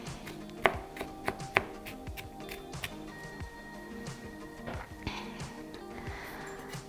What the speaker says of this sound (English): Just to make a little smaller pieces and make sure everything is chopped.